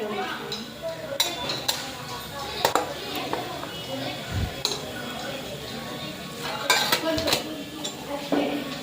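Chicken biryani is dished onto a plate with metal utensils, making scattered clinks, scrapes and taps at close range against a low background hum.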